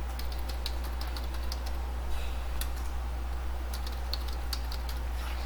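Steady clicking of computer keys as a username and password are typed, a close, continuous run of keystrokes over a constant low electrical hum, with no voices.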